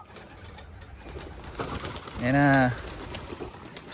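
Racing pigeons at a loft give a single clear, resonant coo in the middle, set against faint background birds and rustle, while someone speaks briefly nearby.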